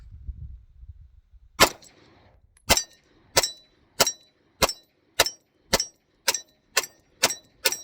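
Pistol shots ring off a small steel target, first one loud bang, then ten fast, evenly spaced shots, each followed by a sharp metallic clang from close range, with no talking.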